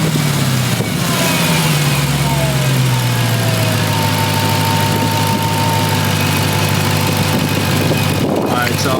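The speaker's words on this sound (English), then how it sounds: "I did want y'all to hear the intake." Manual Dodge Challenger Hellcat with a loud aftermarket intake, engine droning and revving close by with a strong steady roar and a rising whine, briefly dropping and swelling near the end.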